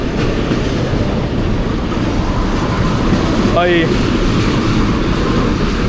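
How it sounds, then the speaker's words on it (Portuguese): A train passing through Atlanta, heard as a steady, loud rumble of rail wagons that fills the whole scene, with a brief wheel squeal or horn-like tone partway through and a voice speaking over it. "Ó o trem aí, ó."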